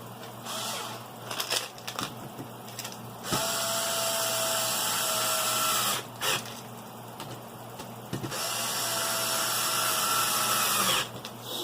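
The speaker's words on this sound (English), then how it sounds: "that electric screwdriver is a lifesaver" An electric screwdriver drives a fastener into the body post of a Nitro Rustler RC car, its motor whirring in two sustained bursts of several seconds each, separated by brief pauses and clicks, close and fairly loud.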